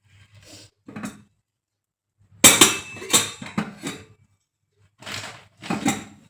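Greasy metal cooking pots and pans clank and clink as they are washed and set down, in short separate bursts with quiet gaps between them.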